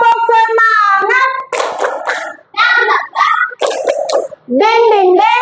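Children in a sixth-grade maths class chant together in a bright, sing-song rhythm with sharp hand claps between phrases, close and loud.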